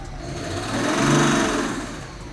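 A rattly N57 diesel engine with about 111,000 miles and known timing chain issues idles up close, a steady mechanical clatter that swells slightly in the middle of the short stretch, with no talking.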